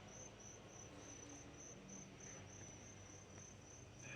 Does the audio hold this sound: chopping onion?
no